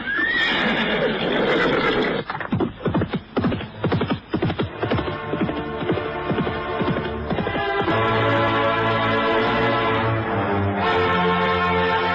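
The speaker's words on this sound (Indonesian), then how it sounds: "ketika Arya Kamandanu berkuda meninggalkan desa Menguntur." A horse whinnies loudly, then hooves clip-clop away in a quick galloping rhythm before music swells beneath, a radio-drama sound effect of a rider leaving a village at night.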